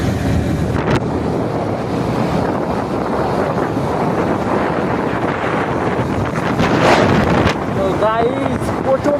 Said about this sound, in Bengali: কিন্তু প্রচণ্ড পরিমাণে হাওয়া দিচ্ছে।